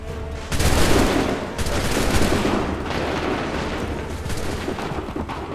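Musket volleys roar on an 18th-century battlefield in the video game Assassin's Creed III, a dense sustained wall of rolling gunfire and booms that starts abruptly and stays loud throughout.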